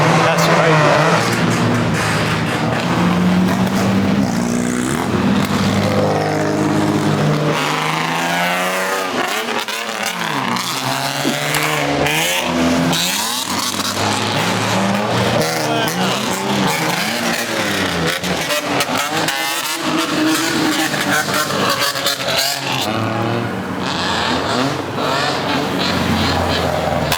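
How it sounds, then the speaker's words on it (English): Bosozoku-style modified cars roar past at the Nismo Festival in Japan, engines revving loudly and continuously for the whole stretch as talk carries on over the noise. "look at those Bosozuku cars coming past in the background"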